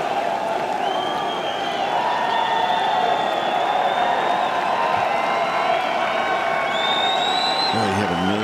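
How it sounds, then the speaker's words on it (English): A large golf gallery at the U.S. Open cheering Phil Mickelson, a sustained roar of applause, whoops and whistles rising and holding loud throughout, with voices shouting within the crowd. "Listen to the crowd cheer Phil on his birthday on Father's Day one last time"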